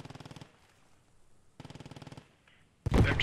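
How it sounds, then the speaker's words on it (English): Machine gun fire in the World War 2 squad shooter Post Scriptum, with rapid rhythmic bursts, a first short one, a longer second after a pause, then a louder, harsher burst at the end. "MG's on the right hand."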